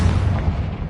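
Confringo spell explosion in the video game Hogwarts Legacy, a single heavy, deep boom with a rumbling low body that fills the short moment, loud and close.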